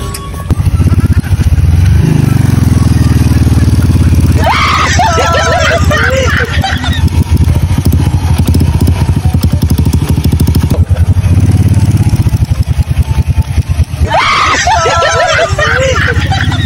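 A motorcycle engine idles and revs close by, loud and continuous, with clattering, and voices talk and shout over it.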